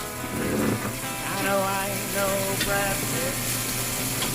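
Steady sizzling and crackling of hot dogs frying on an electric grill at 350 degrees, continuous and close.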